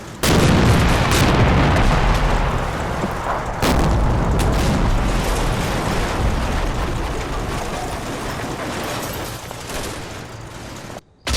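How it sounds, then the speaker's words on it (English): Tank cannon and machine-gun fire in Combat Mission: Red Thunder, a WWII Eastern Front wargame battle at a farm, with a sustained barrage of loud booms, explosions and rattling bursts that continues nearly unbroken for about eleven seconds before ending abruptly. "We also help out our advanced scouts by suppressing the machine gun with a tank."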